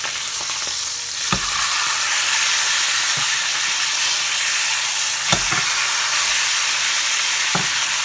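A steak sears in a hot pan with a loud, steady sizzle and hiss, broken by a few sharp pops and spatters, with no voices.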